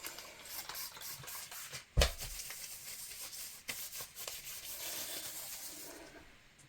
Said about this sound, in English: That's my alcohol spray.